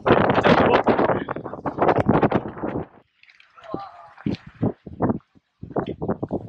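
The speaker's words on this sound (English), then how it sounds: "as you can hear, the wind is pretty crazy" Strong wind on the Isle of Wight roars across the microphone in heavy buffeting gusts, loud at first, then dropping to a lull before bursting back in shorter blasts.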